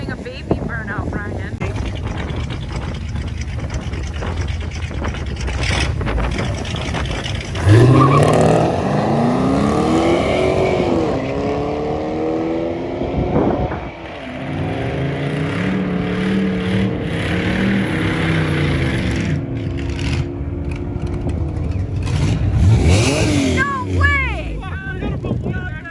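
A car launches at a drag strip, its engine roaring and revving hard with rising sweeps of pitch and a swell of power partway through, loud and close, while people talk over it.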